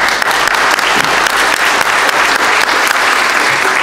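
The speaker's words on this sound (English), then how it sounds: "For a round of applause," Steady, dense applause from a church congregation, loud and close, continuous clapping with no speech over it.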